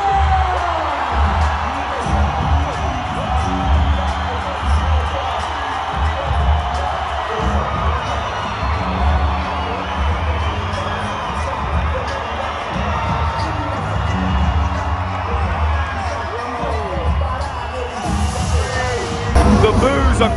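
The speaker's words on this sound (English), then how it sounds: "The boos are so loud." A dense, loud arena crowd roars and boos continuously at a ringside boxing event, with scattered shouts and bangs over the steady wash of noise.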